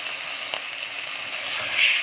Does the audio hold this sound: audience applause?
no